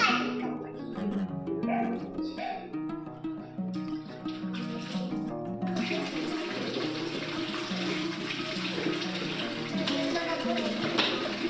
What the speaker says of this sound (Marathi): तिला पण माझ्याबरोबर कपडे धुवायचे असतात, तर आम्ही दोघी धुतोय